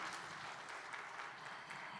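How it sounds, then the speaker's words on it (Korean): A conference audience applauds at the opening ceremony of a regional balanced development research center's 20th anniversary international conference, a faint, even, continuous clapping that stays level throughout. "여러분 따뜻한 박수 부탁드립니다"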